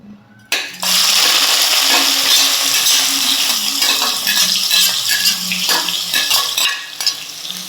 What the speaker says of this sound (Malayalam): എണ്ണയിലേക്ക് ഞാൻ ആദ്യം ചേർക്കാൻ പോകുന്നത് ചെറുതായിട്ട് കൊത്തി അരിഞ്ഞൊരു 2 സവാളയാണ്